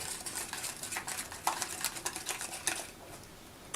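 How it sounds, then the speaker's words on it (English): A wire whisk beats a salad dressing mixture in a bowl, giving a fast, soft, rattling scrape that comes in rhythmic bursts, close but faint with no talking. "And I'm just going to take my wire whisk. Whisk this up really well."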